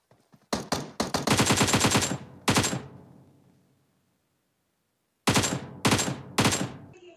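Automatic gunfire in PUBG as a bot is killed in Pochinki, several rapid bursts of shots with a long pause between the first and second volleys, loud and close with no talk.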